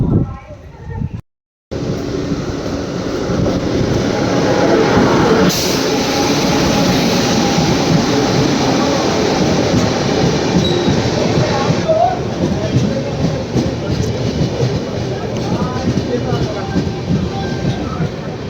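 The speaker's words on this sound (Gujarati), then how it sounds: "Bhavnagar Bandra superfast express platform number 2 ઉપર આવી ગઈ છે" Steady rolling rumble of the Bhavnagar–Bandra Superfast Express at platform 2, heard close with a brief dropout early on and ongoing mechanical clatter and wheel noise filling the scene.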